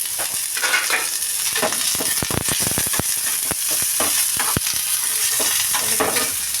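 Onions, mustard seeds and urad dal fry in a pan as seasoning for wheat dosa, a continuous bright sizzle broken by repeated scraping and tapping of a stirring utensil, close and loud with no speech.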